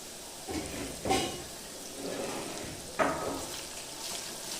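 Onions frying with green chili for green chicken sukka, a steady close sizzle with two brief louder stirring bursts, no voices.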